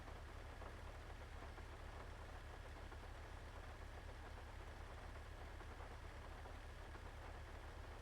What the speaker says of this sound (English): We're just listening to the rain